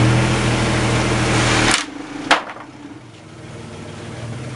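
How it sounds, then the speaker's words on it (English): A power polisher runs at steady loud speed while burnt oil finish is worked into wood, its broadband whir cutting off abruptly partway through, followed by a sharp knock and a quieter, lingering hum. "you want to kick that polisher into gear a little bit?"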